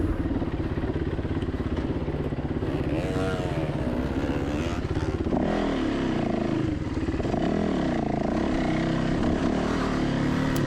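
Enduro dirt bike engine at the US Hard Enduro main event in Moab, climbing over rocks, loud and close throughout with steady harmonic engine drone, shifting revs and throttle surges, some rattling clatter, no talking.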